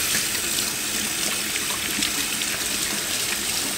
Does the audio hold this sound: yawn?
no